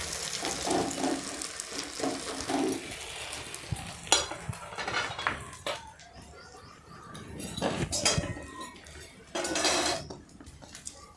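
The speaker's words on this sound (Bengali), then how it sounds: "দেখুন, ডিমের নিচের দিকটি ভাজা হয়ে গেছে সুন্দর। এরপর আমাকে একে উল্টে নিতে হবে।" A flipped egg fries in a pan, giving a soft sizzle under repeated clinks and scrapes of a utensil against the cookware, with a few sharper knocks in between.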